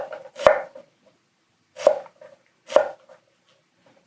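A knife (Hatsukokoro Kurokaze) chops through a juicy onion on a cutting board in three crisp, separate knocks, close and clear against near silence.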